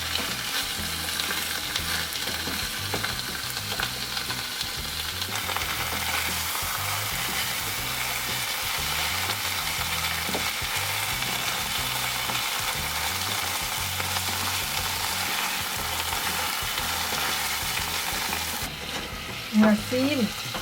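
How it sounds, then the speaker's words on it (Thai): Meat is stir-fried in a pan for Lao red curry, giving a continuous close sizzle with a rhythmic scraping of the utensil repeated again and again, and no talking. "พัดให้ซีนสุกหน่อยนึงแล้วตึงๆกะทิกระป๋องที่ยังเหลือ"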